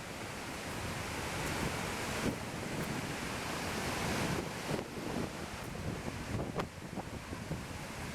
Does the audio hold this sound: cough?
no